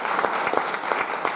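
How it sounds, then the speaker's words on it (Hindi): Steady applause from a seminar audience in Varanasi, dense clapping with a few louder rhythmic swells, sustained throughout without voices. "तो एक जोरदार तालियां उस परम पिता परमेश्वर"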